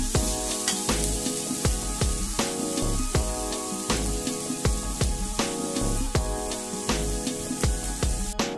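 Ginger and garlic sauté in a pan with a steady hiss and crackle, partly buried under louder rhythmic background music with a regular beat.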